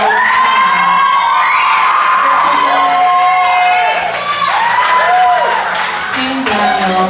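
An audience at the Miss Long Beach pageant applauds and cheers loudly for a contestant, with sustained clapping, whoops and shouts from a packed crowd continuing throughout.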